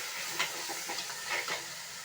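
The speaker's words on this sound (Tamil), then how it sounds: "இப்பொழுது வந்து கருவேப்பிலை கொத்தமல்லி சேர்த்து வதக்குறேன் பாருங்கள்." Curry leaves and chopped coriander sizzle in hot oil in a pan with a steady hiss, broken by a few soft stirring scrapes.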